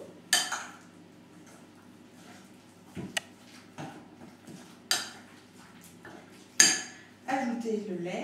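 A utensil knocks and clatters against a bowl while mixing beaten eggs into oat-bran pancake batter, a few separate sharp clinks spaced over several seconds, close and moderately quiet with faint room sound between.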